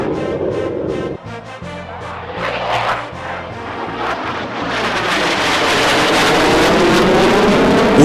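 A Bangladesh Air Force aircraft engine roars loud and steady, swelling as it builds power with wind-like rushing noise over a low rumble and no speech.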